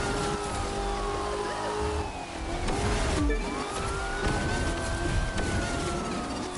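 Police car siren in The Crew 2 wails with rising and falling tones over a roaring car engine, loud and close, the siren sweeping while the engine note shifts through gear changes.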